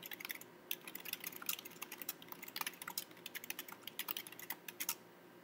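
Fast, steady keystrokes on a computer keyboard while a note is typed, with crisp close clicks in uneven bursts and a brief pause near the end, no voices.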